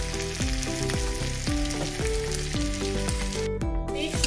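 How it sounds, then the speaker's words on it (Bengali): Peas and mixed vegetables fry in a pan over a medium flame, giving a steady loud sizzle that swells in a regular rhythm as the pan is stirred. "মটরশুঁটিগুলো দিয়ে দিলাম, 2 মিনিট ফ্রাই করে নেব।"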